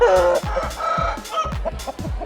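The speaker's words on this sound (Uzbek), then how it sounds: "Mana xo'roz." Clucking and squawking chickens with a rooster's calls mixed in, fairly close, several Fergana-breed birds vocalizing in overlapping bursts.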